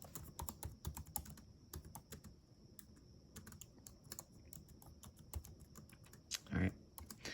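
Rapid, uneven keystrokes on a computer keyboard, close and fairly quiet, in bursts with short pauses and one louder thump near the end, with a faint voice in the background.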